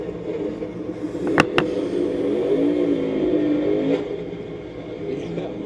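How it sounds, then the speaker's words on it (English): A NASCAR race car with a failed clutch revs its engine while being rolled, then gets shoved into first gear. A steady engine drone swells into a rising rev, with two sharp clicks early on, all over noisy background. "they got it rolling just a little bit, and he revved the engine up and just shoved it as hard as he could into first gear"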